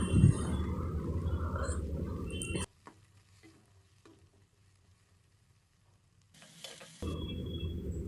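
Chopped onions frying in hot oil for kara paniyaram, a steady dense sizzle with stirring that stops abruptly partway, leaving a quiet gap before the frying sizzle returns at full strength.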